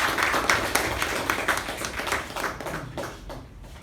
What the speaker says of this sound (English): please help me to welcome Toastmaster Sheeb with a huge round of applause